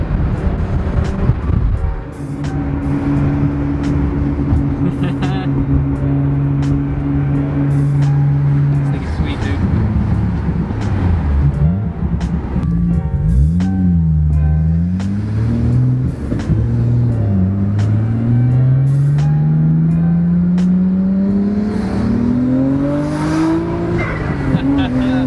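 A Nissan Skyline R34 GT-R drives through town, its engine droning steadily and rising in pitch as it accelerates through the gears, with a loud, close exhaust note and occasional clicks and knocks over it.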